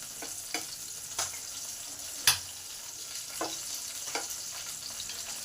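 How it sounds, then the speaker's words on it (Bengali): Garlic cloves sizzle quietly in a pan as they are turned, a soft continuous frying hiss broken by several scraping clicks of a spatula, one of them louder. "এবার রসুনগুলোকে একটু উল্টিয়ে দেব।"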